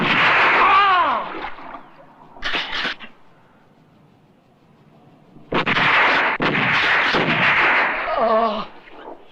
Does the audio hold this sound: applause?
no